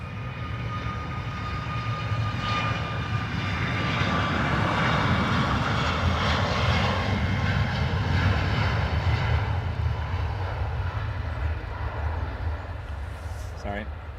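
A Ryanair jet departs Dublin Airport bound for Manchester, its engines producing a steady, sustained roar that swells slightly mid-clip and then eases, heard from some distance.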